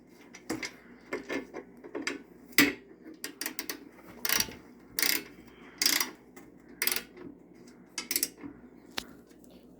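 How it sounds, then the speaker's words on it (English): An Allen key tightens a bolt during a Yamaha YZ250 rebuild, producing close, irregular bursts of metallic ratcheting clicks and tool clatter separated by brief quiet gaps. "I'm going to go ahead with my Allen key"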